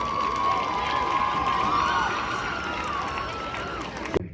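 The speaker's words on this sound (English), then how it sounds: "please give a big round of applause to the John Champ High School Marching Knights" Crowd cheering and applause for the John Champ High School Marching Knights at a marching band competition, a broad roar with a sustained tonal hum and a sharp clap near the end.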